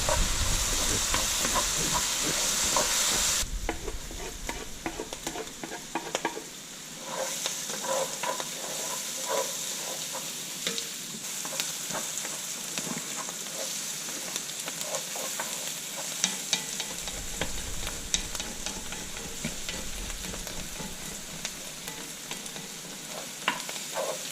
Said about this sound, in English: mushrooms, chopped portobello mushrooms, and onions sauteing in olive oil